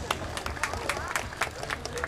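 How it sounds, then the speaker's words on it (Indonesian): Audience applause for Chris Gianto, company president director, at a Honda Bikers Day gathering in Pangandaran: a steady wash of crowd clapping with scattered sharper claps, fairly loud and continuous throughout. "Silakan Pak, boleh kita berikan tepuk tangan Pak Chris."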